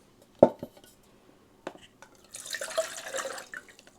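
Water poured into a pot beside a Firemaple Volcano alcohol stove outdoors, a short splashing pour after a couple of knocks of the pot being handled, close and moderately loud.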